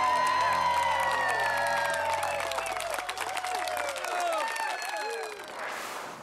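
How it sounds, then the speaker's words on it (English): At the weigh-in of a 2010 FLW Tour bass fishing event on Fort Loudon, a crowd cheers the tournament winner with loud whoops, shouts and clapping that swell together, then fade toward the end. "Give him a big round of applause."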